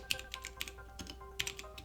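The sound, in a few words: typing on a computer keyboard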